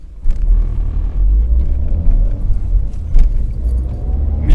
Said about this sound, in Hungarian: Micsoda elindulás, tesó. A turbó.